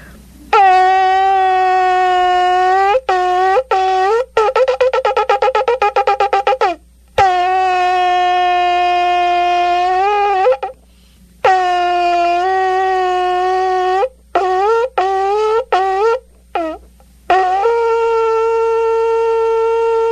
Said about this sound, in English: That was the sound of the shofar.